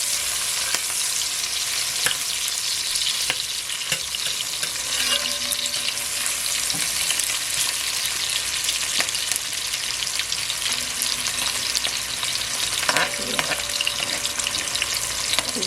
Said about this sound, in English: It's good to hear that sizzle.